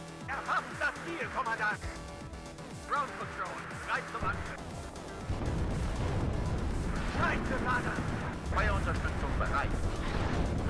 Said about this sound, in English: Artillery is firing.